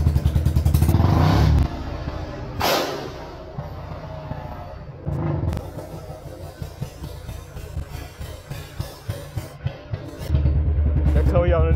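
Bullet 350 motorcycle idling with a steady low thump, its exhaust cracking through several sharp firecracker-like backfire pops before the engine swells loud again; voices talk faintly in the background.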